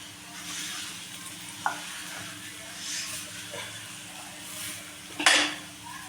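Kothimbir vadi, coriander fritters, shallow-frying in a pan with a steady close sizzle, a soft tap early on and a sharper scrape as a fritter is flipped near the end.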